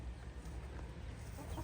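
Chickens in a backyard coop cluck faintly and softly in the distance over a low, steady background murmur.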